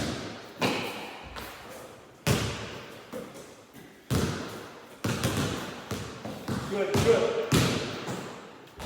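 A basketball dribbled during ball-handling drills in a lockdown home workout: repeated heavy bounces thud at an uneven pace, close and loud, with a brief spoken word in between.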